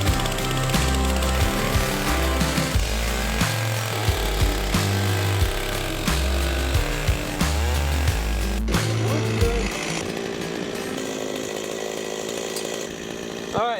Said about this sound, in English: we're going to switch to the 661 for this second bottom cut.